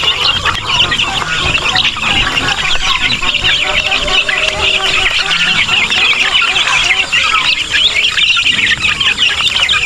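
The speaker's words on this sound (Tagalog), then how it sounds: "Napakarami na sisiw oh." A large flock of chicks on a farm chirps constantly, a dense, high, loud peeping chorus filling the whole stretch with steady intensity.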